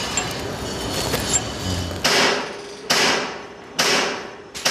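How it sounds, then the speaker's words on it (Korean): Workers strike steel with hammers on a high-rise steel frame structure under construction, a few loud metallic clangs spaced about a second apart, each ringing out and fading, over steady site rumble. "이곳저곳에서 망치질을 하는 소리가 요란하다."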